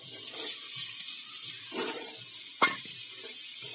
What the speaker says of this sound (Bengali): এর মধ্যে দিয়ে দিচ্ছি আগে থেকে সেদ্ধ করা বাঁধাকপি।